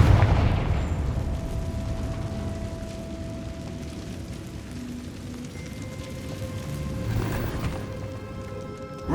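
Confringo fire spell explosions in the video game Hogwarts Legacy, a heavy booming blast that decays into a rumbling tail, with a second burst swelling later amid game ambience.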